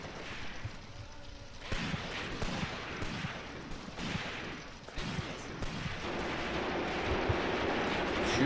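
PPSh submachine gun bursts in the Graviteam Tactics wartime battle, rapid rattling shots in several bursts over a continuous rumble of distant battlefield fire, fairly far off.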